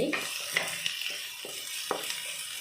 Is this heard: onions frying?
yes